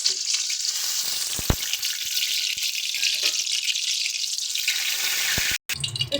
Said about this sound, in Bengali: তো চলো, একইভাবে আমরা সমস্ত শিমগুলোকে ভেজে নেব।